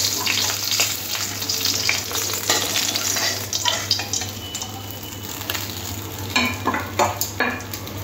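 Bata fish, fried red on both sides, is lifted from hot oil in a pan: a loud, steady close-up sizzle and crackle runs throughout, with scattered clinks and scrapes of a utensil against the pan.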